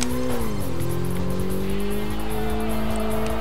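Tyres squeal continuously under a revving engine as a four-wheel-drive car spins its wheels and drifts with the handbrake in the racing game Kaido Racer 2, a steady loud screech with engine tones sliding in pitch.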